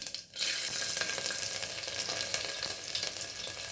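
Cumin seeds, a bay leaf and garlic sizzle steadily in hot oil, a dense continuous frying hiss with faint crackles that starts right after a brief quiet moment and holds level and close throughout.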